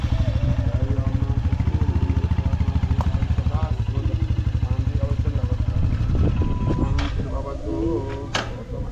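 A Royal Enfield Hunter 350 motorcycle engine idles with a steady, rapid thumping pulse up close, then revs briefly near the end, with voices talking over it.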